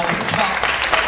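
A brief burst of spectator applause fills the moment at a women's veterans final and prize ceremony, dense clapping at steady level.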